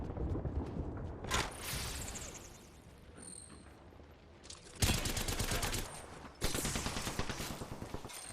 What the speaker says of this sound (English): Closing is happening right now, and you're seeing some gunfire.